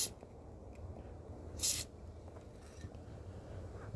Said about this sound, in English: Let's give it another little spray right in here